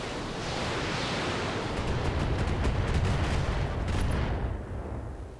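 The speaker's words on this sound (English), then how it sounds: "PPC and LRM is firing" PPC and LRM weapons firing in the RogueTech mech video game, a loud sustained roar of blasts and rumbling explosions with rapid crackling bursts, swelling and then fading over a few seconds, no talking.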